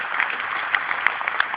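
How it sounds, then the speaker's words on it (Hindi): Audience applause at a Hindi kavi sammelan (poetry gathering) in Delhi, honouring the poet Gopal Das Neeraj: steady, dense clapping from a crowd throughout, with a few sharper individual claps standing out. "अभिनंदन की तालियां आप बजाइए"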